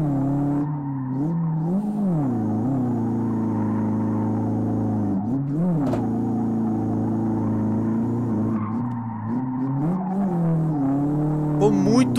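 A Chevette Tubarão with a naturally aspirated 1.6 engine in the Live for Speed racing game revs and accelerates through repeated gear shifts. Each shift brings a dip and a climb in pitch, and the engine note stays loud and close throughout.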